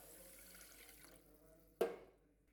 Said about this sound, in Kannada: ಬರ್ರಿ ಈಗ ಇನ್ನೊಂದು ನೀರು ಹಾಕ್ತೀನಿ